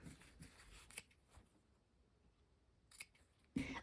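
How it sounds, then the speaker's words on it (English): Scissors clip the fabric corners of a quilt block with a few quiet, crisp snips spread across a mostly hushed stretch, the last cut a bit louder. "we're going to go ahead and just clip the corners here"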